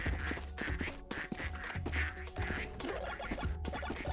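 Repeated cartoonish duck quacks from the Project P.I.T.T. factory-automation video game, several overlapping calls in a busy, steady rhythm over game music and mechanical background noise.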